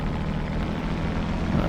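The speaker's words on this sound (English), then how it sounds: "Rev up the engine just a little bit" A P-51D propeller engine in a flight simulator game drones loudly and evenly throughout, a low, constant hum with no voices over it.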